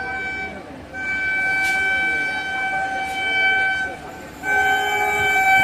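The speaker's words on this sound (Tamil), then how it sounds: "வந்துருச்சு கோயம்புத்தூர் ஜன்சதாப்தி எக்ஸ்பிரஸ் செம்ம ஹார்ன் சவுண்ட் இருக்கு" The Coimbatore Jan Shatabdi Express rumbles steadily past while its horn sounds long sustained tones, loud and close.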